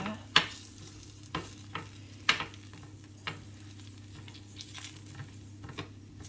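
Roasted butternut squash is stirred in its tray, a few sharp clicks and scrapes of a utensil, spaced irregularly over a faint background hiss, quiet and close with no speech.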